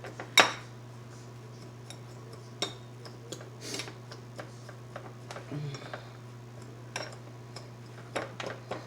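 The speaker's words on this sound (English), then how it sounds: "I'm going to get a fork and I'm going to... I'm just going to mix that in just like that." A fork clinks and scrapes against a bowl while crumble topping for a coffee cake is mixed, giving sparse, light metallic taps and clicks at close range over a steady low hum, with no talking.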